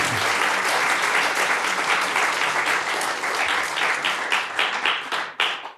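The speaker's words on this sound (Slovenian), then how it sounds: "lepo prosim en aplavz za Janka" Audience at a film discussion event applauds to welcome guest Janko, a loud dense round of clapping that tapers into scattered individual claps.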